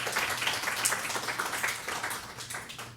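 A church congregation claps together in sustained applause of encouragement, a dense even patter of many hands filling the room without a break.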